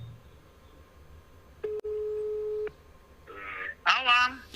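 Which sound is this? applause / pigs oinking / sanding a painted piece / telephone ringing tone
telephone ringing tone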